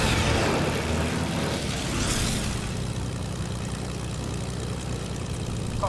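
A propeller airplane engine in a video game drones steadily and loudly, with a brief swell of passing noise early on, holding an even hum throughout.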